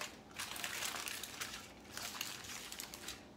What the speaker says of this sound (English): Okay, so we have some tin foil to also put around. I just like fused a few pieces of tin foil together.